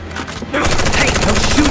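Gunfire in a Final Fantasy VII Remake game scene: a rapid burst of shots erupts loudly after a short stretch of muffled background, continuing densely to the end.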